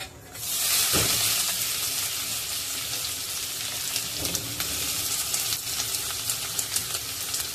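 Onion dropped into hot oil in a pan for an Agri-style mutton dish, bursting into a loud, steady, close sizzle after a brief quiet moment, with small crackles throughout and no speech.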